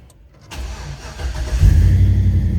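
A 5.3 liter fuel-injected V8 in a 1934 Buick street rod cranks and fires up, the deep engine rumble building from a starter whir into a loud, steady idle close by.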